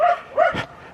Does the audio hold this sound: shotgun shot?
no